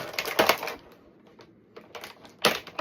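Scissors snipping plastic ties holding a Dominik Mysterio Ultimate Edition action figure in its packaging, a few sharp close clicks and crinkly snaps in separate bursts with quiet gaps between.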